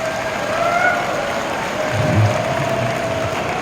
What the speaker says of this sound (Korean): 박수 한번 보내주시고